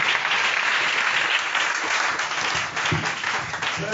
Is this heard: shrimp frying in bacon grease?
no